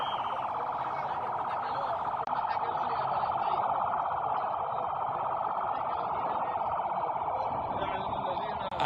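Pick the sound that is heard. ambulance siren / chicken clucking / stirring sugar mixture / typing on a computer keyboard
ambulance siren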